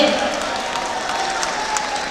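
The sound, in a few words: audience applause at a poetry gathering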